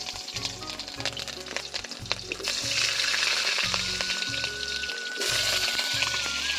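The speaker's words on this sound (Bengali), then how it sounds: "এবার আমি আলুগুলো ভেজে নেব" Potatoes frying in hot oil in a large wok, a continuous loud sizzle with occasional stirring scrapes and a low rhythmic hum underneath, no talking.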